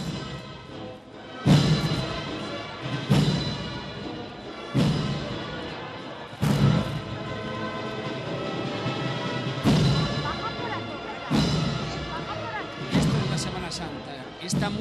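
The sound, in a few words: Band playing in procession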